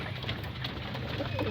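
Racing pigeons in a loft coo in low, soft repeated calls mixed with faint chirps and a wash of background noise, while a person talks over them.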